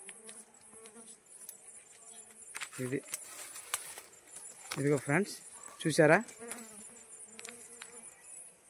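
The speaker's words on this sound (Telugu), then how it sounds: "తేనెటీగలు మొత్తం చూసారా ఒకవైపు వెళ్ళిపోయేవి" Small wild honeybees from a hillside hive buzz around during a honey harvest, with a thin, continuous drone and several louder bursts as bees fly close past, while someone talks briefly.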